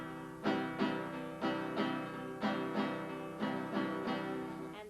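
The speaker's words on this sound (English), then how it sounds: "The next one is called a ranchera, and it sounds like this." Strummed guitar in a ranchera rhythm: evenly spaced accented chord strokes, roughly two per second, each ringing and decaying into the next, close and soft with no voices.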